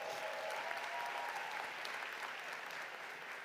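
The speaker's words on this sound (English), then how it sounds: "I think that deserves a round of applause." Steady applause from a large audience at a university winter commencement fills the hall as an even wash of clapping that fades slightly toward the end.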